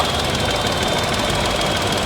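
Tata Nexon BS6 phase 1 petrol engine idling after start, a steady, close, loud rumble with an even hum and slight rattly vibration, no change in pitch; no voices.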